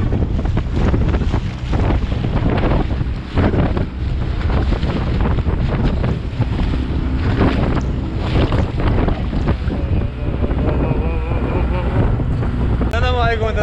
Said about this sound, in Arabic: الريح الشرقي قاسح